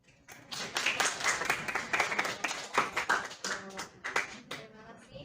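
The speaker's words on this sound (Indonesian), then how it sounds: "beri tepuk tangan sama kelompok 6" A classroom of students claps for a presenting group, starting quickly, rising to dense clapping and then thinning into scattered claps, with some voices underneath.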